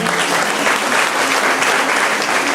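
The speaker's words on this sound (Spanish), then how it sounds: "Entonces, fuertes aplausos a la Iglesia Católica." A Catholic church congregation applauds, a dense, steady burst of many hands clapping together at close range.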